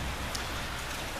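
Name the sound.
light fine rain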